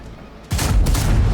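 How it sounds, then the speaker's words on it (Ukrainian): Two loud gunshots go off in quick succession in a video game, each a sharp burst with a booming, ringing tail, after a brief quiet lead-in. "Якийсь подвійний постріл в мене вийшов."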